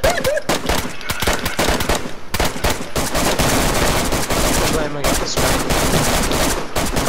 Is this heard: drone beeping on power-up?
no